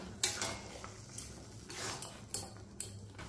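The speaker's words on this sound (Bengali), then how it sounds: "এবারে এই মশলাটা আচারের সঙ্গে ভালো করে মিশিয়ে দিতে হবে।" A spoon stirs spice mix into Indian jujube (kul) pickle in a metal pan, producing a few faint, sporadic scraping clinks and clatters against the pan.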